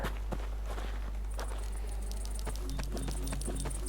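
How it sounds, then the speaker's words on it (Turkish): Footsteps of a character in the survival shooter DeadSide, a steady run of soft steps moving across the ground amid constant background hum and scattered game noises, with no talk. "Ayak sesini duyuyorlar abi."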